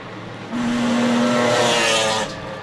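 Rally car on a gravel special stage of the New Zealand Rally Championship, Goldrush Rally Coromandel, braking hard late and turning in, with a loud engine note rising and a brief tire squeal, then fading as it passes.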